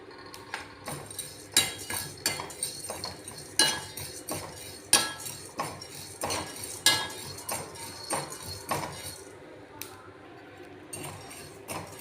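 Cumin seeds and black pepper dry-roasting in a pan, heard as irregular close clinks and taps of a utensil stirring against the metal, with a faint rustle of the spices between strikes and no talk.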